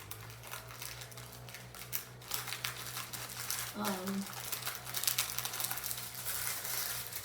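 Parchment paper or plastic wrap crinkles and crackles continuously as a butter log is rolled up in it, close and textured, with a voice speaking briefly partway through.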